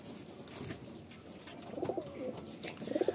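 Pigeons from a full loft cooing soft and low, close by and then more steadily toward the end, with light rustling and faint chirps around them and no talking.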